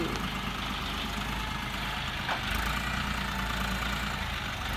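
A 50 horsepower farm tractor idles in a steady, low, continuous rumble close by, with no talk and a brief faint rattle partway through.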